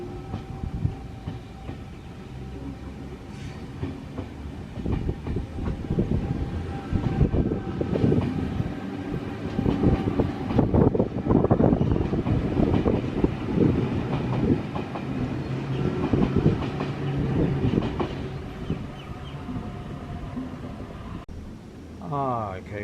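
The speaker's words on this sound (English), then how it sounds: "Okay, well, the train is about to depart from Strathfield, heading out to Lithgow." Sydney Mariyung electric passenger train departing Strathfield for Lithgow, heard from on board as a steady rumble and rolling rail noise with faint clatter, loud and continuous, with some voices underneath.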